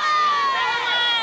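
A crowd with cheerleaders cheers loudly at a high school football game between Plantation and Cooper City, a dense, sustained wash of yelling voices with no pauses.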